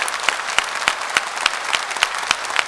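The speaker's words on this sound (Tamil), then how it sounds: "அவர்களுக்கு ஒரு மிகப்பெரிய கைத்தட்டலை இந்த அரங்கம் வழங்க வேண்டும்" Audience in an auditorium applauding steadily, a dense wash of many hands clapping with regular louder claps standing out, no talk over it.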